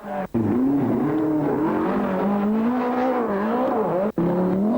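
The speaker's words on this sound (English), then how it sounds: "Michel Mouton in the outstandingly powerful 500 horsepower Audi Quattro Sport as it flew through the Trentham Gardens stage near Stoke-on-Trent." A 500-horsepower Audi Quattro Sport rally car on the Trentham Gardens forest stage of the 1984 Lombard RAC Rally, its engine roaring loud and steady with shifting pitch and two brief gear-change breaks.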